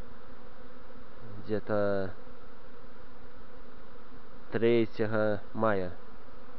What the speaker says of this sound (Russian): это вокруг кусты позаросшие, все в пчелах